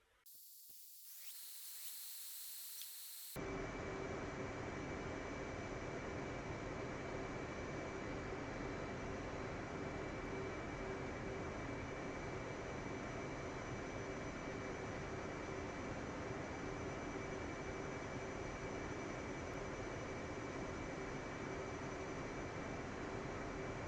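An F-18 jet engine spooling up during an automatic cold start in the DCS flight simulator: a short rising whine, then a steady, loud, unbroken roar with a thin high tone running over it.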